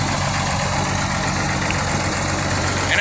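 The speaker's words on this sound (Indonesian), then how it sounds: "Enak nih, mesinnya masih bagus, ini masih garing, halus." A diesel engine of an ALS intercity bus, number 326 on the Trans-Sumatra route, idles with a steady low rumble and a constant drone, close by and alone.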